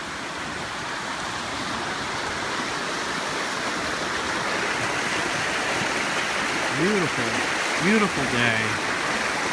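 Waterfalls at Pictured Rocks National Lakeshore, Michigan, run strong after heavy precipitation and give a steady, broad rushing roar that fills the scene, while a person speaks briefly over it toward the end.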